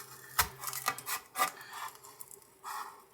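A plastic razor blade scrapes leftover double-stick tape off a clock part, giving several short, close rasping strokes with brief pauses between, fairly quiet and with no talking.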